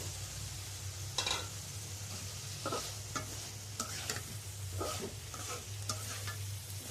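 Fish roe is fried with bay leaf, turmeric and salt in a pan, with a low steady sizzle running under repeated scraping stirs that clatter at irregular intervals, close and moderately loud.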